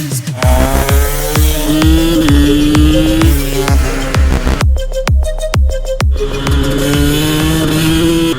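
A heavily modified 125cc two-stroke motorcycle engine, still being run in, buzzes loud and close, its revs rising and dipping in repeated throttle blips, with a short eased-off stretch midway before revving again.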